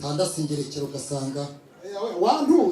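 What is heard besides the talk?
No everyday noise stands out behind the speech.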